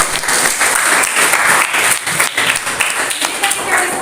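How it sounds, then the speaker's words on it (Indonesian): A classroom bursts into dense, steady applause, many hands clapping together loudly and continuously for several seconds without a break. "Ya, yuk kasih tepuk tangan."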